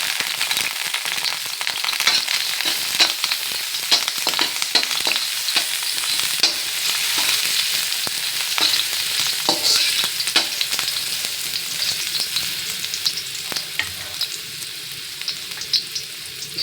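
Ginger sautés in a small amount of oil for Maya Maya fish sinigang, a close, continuous crackling sizzle with sharp spitting pops and occasional stirring, no voices.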